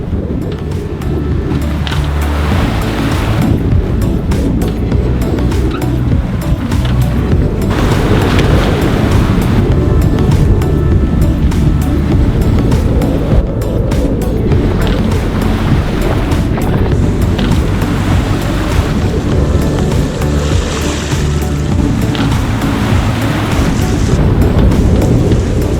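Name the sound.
squall wind and waves around a sailing boat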